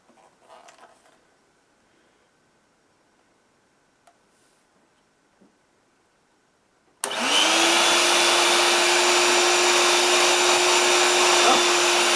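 A 1980s Moulinex Petivac hand-held vacuum cleaner switches on after a stretch of near silence with a few faint clicks, then runs with a loud, steady, high whine.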